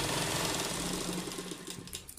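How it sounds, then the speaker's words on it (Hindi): A sewing machine stitches the hem of a palazzo pant, running in a fast continuous whirring rattle that slows and stops near the end. "ये हमने मोटी सिलाई लगा देनी है यहाँ पे, तुरपाई करेंगे इसके ऊपर"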